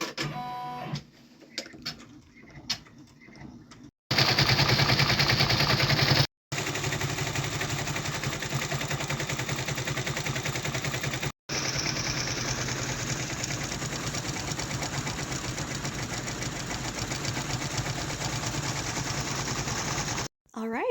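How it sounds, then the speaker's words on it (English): Embroidery machine sewing dense satin stitches on a sweatshirt, a fast steady mechanical whirring chatter that runs loud and continuous with brief pauses, after a few quiet clicks and handling sounds. "we are all pressed and ready to go back on the machine and just let the satin stitches finish over the entire design"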